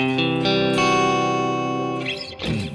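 A distorted electric guitar plays a rising run of notes in the Lydian mode, the last one held and ringing with reverb before fading into a brief scrape.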